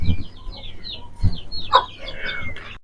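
A hen standing with her chicks gives soft, close clucks, and thin peeps from the chicks are scattered around her during a short, uneven stretch.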